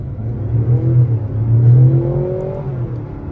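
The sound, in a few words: Mazda CX-90 PHEV accelerating hard in sport mode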